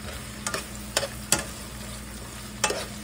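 Onions sauté in about half an inch of oil for spicy fried cabbage, a soft steady sizzle broken by four or five sharp spatula scrapes and taps against the pan.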